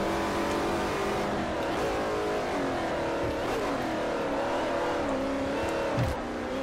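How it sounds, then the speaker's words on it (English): An 800-horsepower race car in Forza Motorsport 4 does a burnout at Catalunya, its engine revving loudly and steadily with rising and falling pitch sweeps and a faint tire squeal, no voices. "The epic burnout to start."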